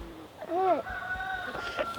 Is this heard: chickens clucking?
yes